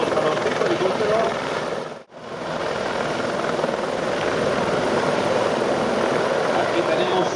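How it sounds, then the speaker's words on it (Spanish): Five helicopters of the ASPA aerobatic patrol fly at an airport air festival, a loud, continuous rotor and engine roar that drops out for a brief moment before resuming at full strength. "tenemos a los 5 helicópteros"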